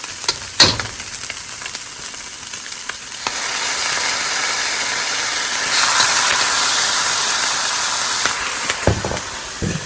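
Oyster sauce and soy sauce hit a hot frying pan and sizzle loudly and steadily, with a sharp clink at the start and a brighter burst of hissing midway.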